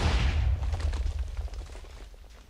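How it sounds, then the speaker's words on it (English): A cannon explodes in a pirate battle royale video game, giving a loud, rumbling blast that booms at the start and then decays into crackling debris over a couple of seconds, with no talk over it. "I just blew up my own cannon"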